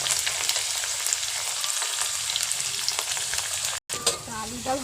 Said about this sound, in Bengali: আলুটা একটু লাল লাল হয়ে যেতে আর একটু ভাজতে দেবো।